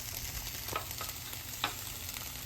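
Garlic and green onions frying in a pan with a steady broadband sizzle and a couple of brief utensil clicks, moderately quiet and without talk.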